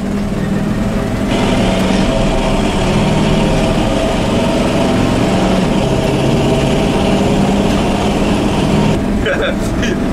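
A 1979 GMC 7000 truck engine roars steadily under acceleration, loud and close from a cab-side position, holding a dense continuous drone throughout.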